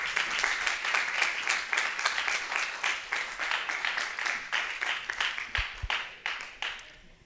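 An audience claps at a World Water Week session, a lively, close round of applause with quick individual claps that swells and eases in pulses before tapering off at the end.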